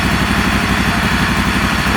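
Moto Guzzi motorcycle engine, an old engine brought back to life after six years, idling steadily and loudly up close with a rhythmic low throb and no talk over it.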